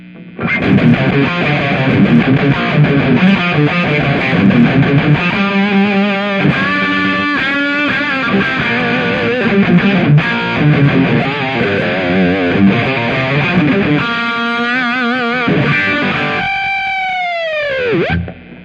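Loud, heavily distorted electric guitar through a VHT Pittbull amplifier, playing riffs and sustained notes, ending with a swooping, warbling effect before cutting off.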